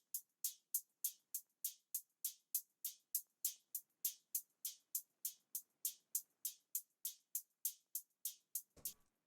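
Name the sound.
hi-hat with EQ, reverb, delay, flanger and halftime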